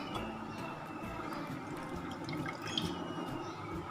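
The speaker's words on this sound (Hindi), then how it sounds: "इस तरीके से प्याज को अच्छे तरीके से पानी निकाल दें" Water drains from chopped onions while making Peshawari chapli kababs in a home kitchen, a steady trickling and dripping that runs continuously and fairly close without any pauses.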